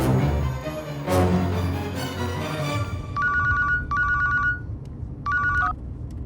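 A telephone rings with several evenly spaced electronic trill bursts, loud and close, after a stretch of music and ambient sound.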